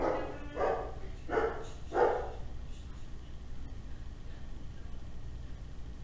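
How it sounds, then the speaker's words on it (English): A dog barks four times in quick succession near the start, then quiet room ambience follows with no further barks. "dog barking"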